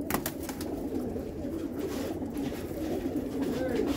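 About 250 racing pigeons coo in a steady, overlapping low murmur, close by and continuous, with a few brief rustles or flutters near the start.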